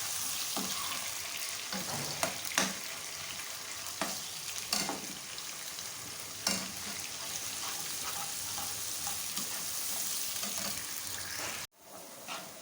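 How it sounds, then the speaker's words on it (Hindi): Onions frying in a pan for a dhaba-style aloo gobi, a steady close hiss of sizzling oil with occasional stirring scrapes and clatter, briefly cut off near the end. "प्याज अच्छी तरह से फ्राई करें।"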